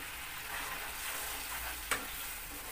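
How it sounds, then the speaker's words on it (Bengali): Spice paste fries steadily in a pan with an even, close hiss of sizzling and stirring. One sharp clink of a utensil stands out near the end. "এবার এই মশলাটা আমার একটু কষানো হবে"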